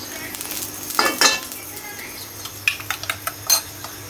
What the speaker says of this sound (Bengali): আগে আব্বুর ডিম ভেজে দিচ্ছি, পেঁয়াজ কাঁচামরিচ লবণ আর এই যে একদম সামান্য তেল।